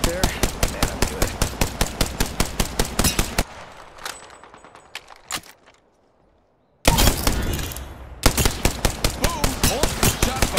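Rapid, evenly spaced bursts of gunfire come from the Nessie gun in Apex Legends during an April Fools update match, with a quiet gap before the loud firing resumes.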